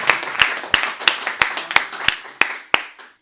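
Sharp, evenly spaced claps ring out at a poetry recital welcoming the young poet Eshan Dev, about ten crisp beats in a steady rhythm, close and prominent, fading quickly at the end.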